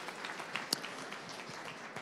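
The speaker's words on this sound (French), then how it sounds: "On peut l'applaudir." Audience applause at a startup pitch event, faint and distant, a short spell of scattered claps with a couple of sharper hand claps standing out.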